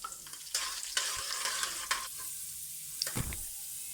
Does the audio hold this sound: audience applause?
no